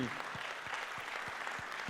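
Cinema audience at a premiere screening applauds in a steady, dense burst of clapping, with some low rhythmic thumps pulsing beneath it.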